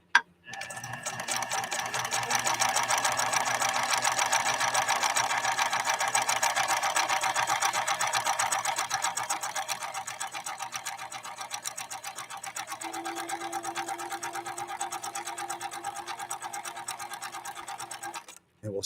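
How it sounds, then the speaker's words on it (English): A PFAFF 1222 sewing machine stitches through fabric in a steady, fast mechanical whirr, running continuously at close range for most of the stretch, easing slightly in pace near the end before stopping. "Just making sure I'm not sewing over my material."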